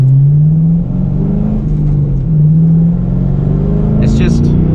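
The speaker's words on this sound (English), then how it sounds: "It's just a fun car to drive." A car engine hums and drones steadily while being driven on the road, its pitch rising and falling slightly with the throttle, loud and close, with a little faint chatter near the end.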